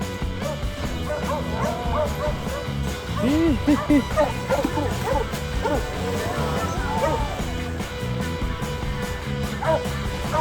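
On a Bohol beach outing, a dog barks and yips several times in short bursts, with a few whimpering calls, over a busy background of chatter and ambient noise.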